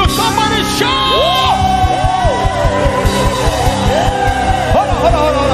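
A gospel concert crowd at The Experience 2021 shouts and yells loudly over live music with a steady drum beat, cheering voices rising and falling together close up, with a lead voice calling out.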